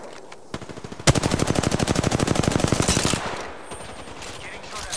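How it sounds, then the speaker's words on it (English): Sustained automatic gunfire in Apex Legends, a rapid, loud, evenly spaced burst of shots lasting about two seconds after a couple of isolated single shots, then fading to quieter background noise. "Getting shot at."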